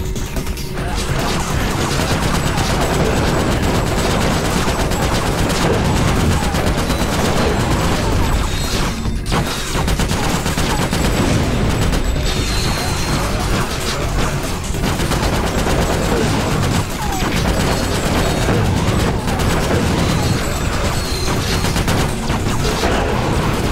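Bot-placed explosives detonate on towers in the game Ratchet Deadlocked, a dense, continuous barrage of loud blasts and crackling booms filling the whole stretch without pause.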